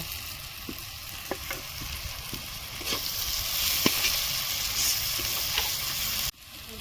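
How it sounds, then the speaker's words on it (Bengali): Ground spices frying with chopped onions and chillies in a pan give a steady sizzle with occasional stirring clicks, growing a little louder midway before a sudden drop near the end. "এখন আমি গুঁড়ি মশলাটা ভেজে নেব।"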